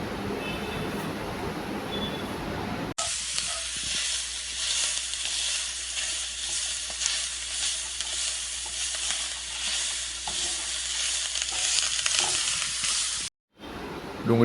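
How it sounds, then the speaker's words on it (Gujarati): Chopped onion dropped into hot oil in a kadai for paneer pulao, a sudden burst into sustained loud frying hiss that carries on evenly, then cuts off briefly near the end. "તેલ ગરમ થાય એટલે એમાં આપણે કાપેલી ડુંગળી એડ કરી લેવાની સૌથી પહેલાં"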